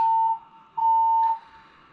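A building fire alarm sounding two long steady electronic beeps separated by a short gap, loud and clear with no voices over it.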